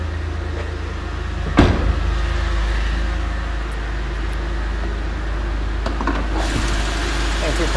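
A 2009 Chevy Impala with a 3.5 liter engine idles under the open hood, a steady low hum with a single sharp knock near the start and a few faint clicks later.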